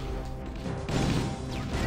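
Grenades lobbed at Hunters in Halo: Combat Evolved explode with a dull crashing burst, one blast landing just short of halfway through and a rougher rumble swelling late, all over a steady bed of game noise.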